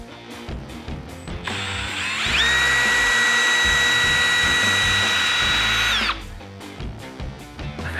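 A power drill running in reverse drives a Milwaukee screw extractor into a stuck screw, with a loud sustained whine for about four seconds, bracketed by brief clicks and handling noises.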